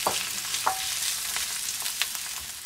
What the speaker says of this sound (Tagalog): Lagay na ngayon natin yung ating nilutong spinach.